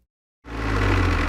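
A cartoon JCB excavator's engine starts up abruptly after a brief silence and settles into a loud, steady low rumble with a throbbing idle close by.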